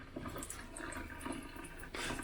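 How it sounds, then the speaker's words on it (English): Pink RV antifreeze runs from a bathroom sink faucet during winterizing, a steady close-up splash and gurgle of liquid that swells louder near the end, with no talking. "You just let it run until you get this pink liquid coming through."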